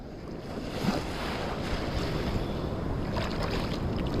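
Steady ocean surf at Playa Marlin beach in Cancún, heard from in the water as a continuous broad rushing wash with wind noise on the microphone, loud and unbroken.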